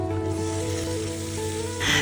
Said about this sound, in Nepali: चिकनमा मैले नुन राखेँ अनि मजाले एकछिन फ्राई हुन दिएँ।